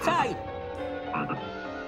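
A cartoon toad in a Smurfs episode lets out a loud, close croak at the start, followed by softer throaty gurgles and background sound effects.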